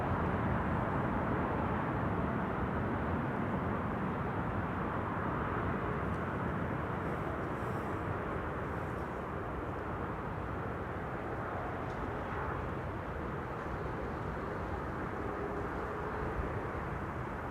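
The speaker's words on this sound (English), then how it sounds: "A380 taking to the skies." Airbus A380 airliner taking off at Amsterdam Schiphol Airport, a broad, steady distant jet roar that holds for the whole stretch without talk.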